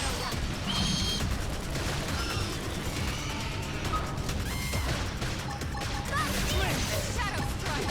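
Combat attacks in Xenoblade Chronicles X, a dense, continuous clash of hits, slashes, blasts and explosions with game effects layered throughout, steady and loud for the whole stretch.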